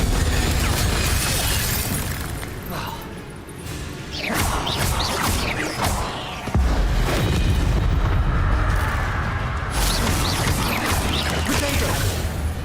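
Repeated casts of the Incendio fire spell in the video game Hogwarts Legacy, loud roaring blasts and crackling bursts amid dense combat noise, with brief voices mixed in.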